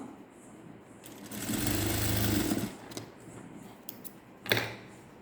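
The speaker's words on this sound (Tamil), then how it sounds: "இப்படி தையலை நான் லாங் ஸ்டிச் தான் போட்டிருக்கேன் ரெண்டு தையல் போடணும்" A sewing machine runs long stitches through blouse fabric in one short steady burst of rapid whirring, followed by a few light mechanical clicks and a brief thump nearby.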